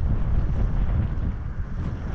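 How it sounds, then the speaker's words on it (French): Gusting wind buffets a camera microphone outdoors beside the Meuse river, a loud, continuous low rumble with no voices. "La caméra a été renversée par un coup de vent."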